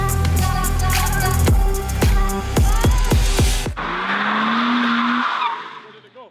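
A drift car revs hard with a run of sharp bursts and squealing, skidding tires up close. It then gives way to a steadier whirring buzz with a rising tone before it fades out.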